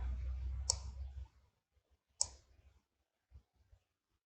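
Two sharp, close computer mouse clicks, separated by about a second and a half, made while using the fillet tool in a CAD program for a 3D printed enclosure. A low hum fades out early, and a few faint taps follow.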